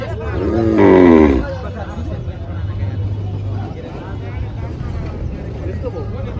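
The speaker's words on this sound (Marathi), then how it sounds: "फुल असा बाजार भरलेला आहे आजचा. पण भरपूर बैल आलेले आहे" A bull lets out one loud, drawn-out moo near the start, over a steady murmur of crowd noise and distant chatter at the Shirpur bull market.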